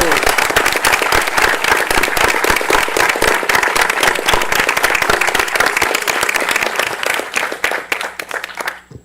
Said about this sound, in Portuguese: E uma salva de palmas para todo esse time aqui que resolveu tudo isso.